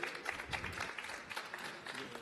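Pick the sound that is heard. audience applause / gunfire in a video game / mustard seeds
audience applause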